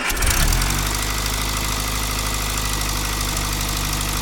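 Austin Allegro engine ticking over after a brief start-up burst, then a loud, steady idle with an even low mechanical drone and vibration, close by and with no voices.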